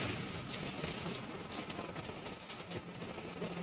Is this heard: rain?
yes